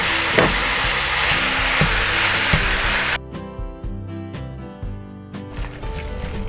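Ground turkey and onion fry in hot oil with a loud, steady sizzle for about three seconds, then the crackle drops to a softer, thinner hiss with faint tonal hum.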